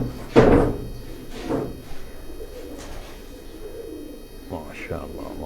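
Pigeons coo in a loft with soft, low repeated calls close by, mixed with a few sharp knocks and rustles as someone talks over them.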